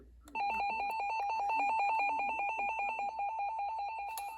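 A RadioShack 12-256 weather radio sounds its alert test tone, a loud, steady electronic beeping with a rapid warble that starts after a brief pause and continues unbroken to the end, with no voices.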